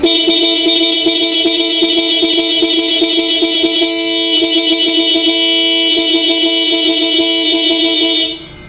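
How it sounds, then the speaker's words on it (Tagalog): A loud, continuous Yamaha YTX125 motorcycle horn blares close by with a buzzy, pulsing tone for several seconds before cutting off abruptly. "Busina tayo mga boss."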